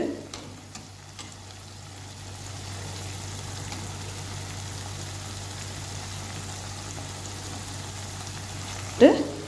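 Carrots and peas fry in a pan with a steady, low sizzle that runs the whole time, joined by soft stirring scrapes and a sharp clatter near the end.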